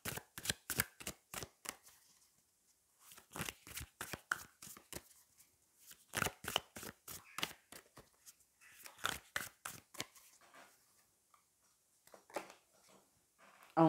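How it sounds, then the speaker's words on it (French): Soft papery rustles and flicks of a tarot deck being shuffled and a card drawn, close and quiet, in uneven bursts with short pauses between them. "Je vais aller prendre une carte supplémentaire pour voir un petit peu par rapport au 7 de coupe"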